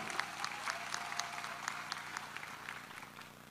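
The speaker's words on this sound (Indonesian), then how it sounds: "Kita berikan aplaus kepada Mas Gibran." Audience applause at an Indonesian young entrepreneurs' declaration event welcoming Gibran Rakabuming, steady dense clapping from a crowd held at moderate level throughout, with no talk over it.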